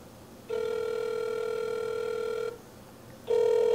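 A phone line rings unanswered during a prank call to a Taco Bell. Two long, steady electronic ringback tones sound, separated by a short pause, with no voices.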